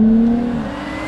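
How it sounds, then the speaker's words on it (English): A Jaguar Land Rover car accelerating with the pedal down on a driving course, a steady close engine tone that stays loud and even through the short burst, with no talking. "Go, pedal down, accelerate,"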